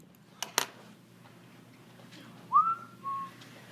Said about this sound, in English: Probably shouldn't whistle next to the microphone